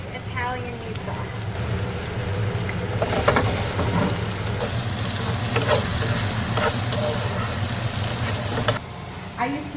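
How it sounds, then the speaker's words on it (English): Onions for meat sauce fry in a pan with a steady, dense sizzle and crackle, swelling louder midway, while a person talks intermittently over it. "Then we're gonna add the onions. And we're gonna cook that for about 8 minutes until it's soft"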